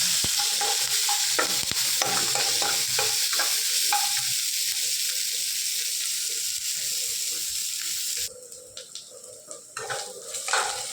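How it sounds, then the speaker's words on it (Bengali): Chopped onion frying in oil makes a loud, close, continuous sizzle with stirring clatter. Near the end the hiss suddenly drops to a quieter, uneven crackle. "পেঁয়াজ কুচি দিয়ে দিলাম। এবার পেঁয়াজটা ভাজা ভাজা করবো।"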